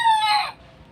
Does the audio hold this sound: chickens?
yes